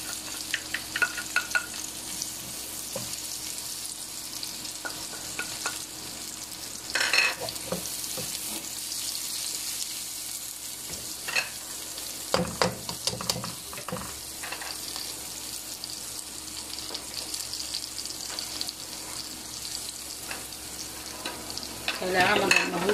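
Onion sautéing in a pan for pancit guisado with oyster sauce and sesame oil, a soft continuous sizzle broken by repeated scraping stirs and spatula clinks, close and moderately quiet.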